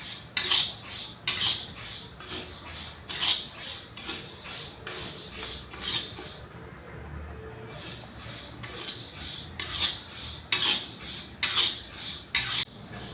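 Moong dal stirred while dry-roasting in a pan for chakli bhajani, a metal spoon scraping and clattering in repeated bursts, close and fairly loud, with a brief pause midway.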